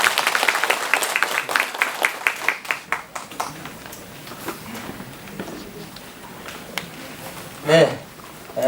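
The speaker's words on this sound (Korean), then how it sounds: "큰 박수로 맞아주시기 바랍니다." Audience clapping at a Korean township residents' general assembly, welcoming the chairman's opening declaration; dense applause at first that thins into scattered claps, with a brief voice near the end.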